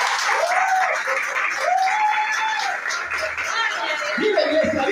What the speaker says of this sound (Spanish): Démosle un aplauso al Rey y gócese.